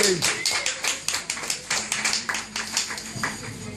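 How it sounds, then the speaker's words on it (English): Scattered applause from a small audience at an open mic night in a cafe bar, individual claps distinct and uneven, with a few voices cheering over it. "give a big round of applause, Mr. Tim King"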